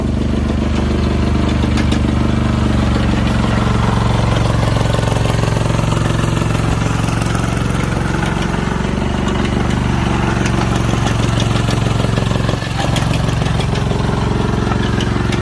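Old Japanese HANIX H05 mini excavator with a single-cylinder diesel engine idling, a loud, close, steady low chugging throb that runs unbroken throughout.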